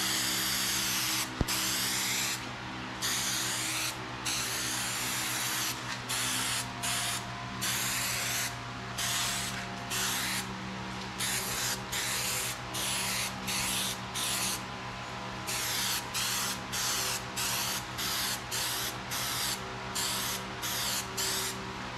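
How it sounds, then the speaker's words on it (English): Contact adhesive sprayed from a can onto foam for a three-wheeler seat, heard as repeated close hissing bursts of varying length separated by brief pauses, with no talk. "when you're using this contact adhesive, you got to put it on both sides"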